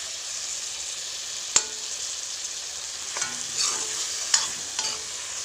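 Boiled potato fries in a pan with a constant soft sizzle, broken by a few sharp clinks and scrapes of a utensil stirring it.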